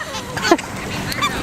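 Ducks or geese being fed treats give a few short, close honks and quacks over about a second, with faint background noise around them.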